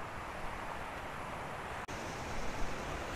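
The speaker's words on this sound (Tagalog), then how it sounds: "malakas na yung tunog ng bagsak ng water o agos ng water" Steady, dense rush of a waterfall and flowing river at Paniningkan in Barangay Buenavista, Tandag City, a continuous broadband roar heard close with no breaks and no voices.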